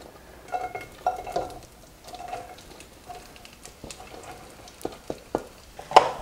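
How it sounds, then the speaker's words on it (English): Onions sauteing in a pan for shakshuka, a soft, low sizzle punctuated by scattered clinks and scrapes of a utensil against the pan, fairly close and quiet, with a sharp knock near the end. "I'm going to throw in all of my onions"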